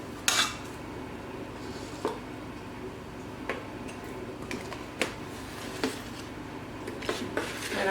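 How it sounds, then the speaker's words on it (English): Dry baking ingredients, including baking powder, mixed in a bowl with a utensil for a pumpkin recipe, giving soft repeated scraping and clinking taps at an irregular rhythm, fairly quiet and close with no talking. "I'm just going to mix all of the dry ingredients"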